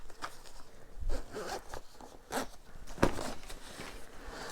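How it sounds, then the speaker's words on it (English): A zipper on a Manfrotto Aviator Hover 25 drone backpack is pulled closed in several quick rasping strokes, close up with some handling rustle and no talking. "So I'll zip that back up"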